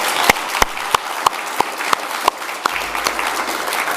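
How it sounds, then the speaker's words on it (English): Applause from a small audience at a Rotary club meeting, a few close, distinct claps standing out in a regular rhythm over lighter scattered clapping, moderately loud and lasting a few seconds. "let's give a round of applause for everybody"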